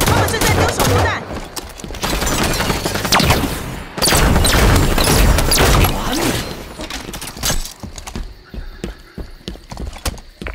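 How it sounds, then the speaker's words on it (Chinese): Rapid enemy gunfire and bursts of combat in the Halo video game, dense clattering shots and explosions packed together for several seconds before thinning into sparser, scattered hits. "敌人开火了！"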